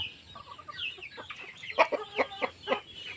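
Backyard poultry coop where chickens cluck in short repeated calls, several birds close by and moderately loud, without talk.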